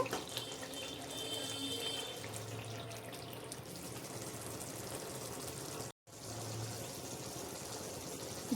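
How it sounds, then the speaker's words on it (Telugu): A steady stream of water rushes into a cooking pan of koftas, continuous and fairly close, with a brief break partway through. "కొద్దిగా వాటర్ అయితే ఇందులో యాడ్ చేస్తున్నాను"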